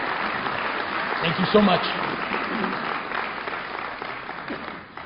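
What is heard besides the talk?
audience applause for mosque leadership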